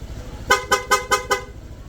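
A PIAA dual horn on a Honda Click 160 scooter honks five times in quick succession, loud and close, each blast short and evenly spaced.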